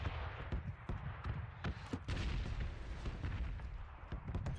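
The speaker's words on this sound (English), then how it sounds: "I think there was a gunshot across the way." Sharp gunshot cracks from the video game PUBG ring out at irregular intervals over a dense, rumbling background of battle noise.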